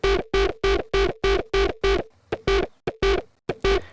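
A buzzy synth bass pulses in choppy, evenly spaced eighth-note stabs from an LFO set to 1/8 bar, loud and up close, with a brief irregular stutter near the end.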